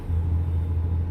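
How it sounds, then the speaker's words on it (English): A truck's engine brake rumbles in American Truck Simulator, a loud, steady, deep drone that holds for about a second with no voices over it. "Did you do your Jake break?"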